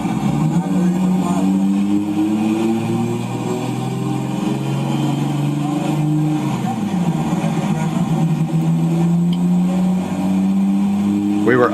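Car engine revving hard on a dyno during a boosted pull on race fuel, a loud, sustained roar whose pitch climbs steadily, dips briefly midway, then rises again, with a voice talking over it.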